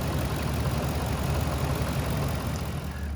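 A car engine idles steadily during an Amsoil engine flush, a constant low mechanical hum with a faint even pulse, close and unbroken with no talking.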